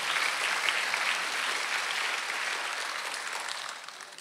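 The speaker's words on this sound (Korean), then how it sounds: "박수로 나가주세요." A church congregation applauds together during a Sunday worship service, a dense, steady wash of many hands clapping that fills the room and eases slightly toward the end.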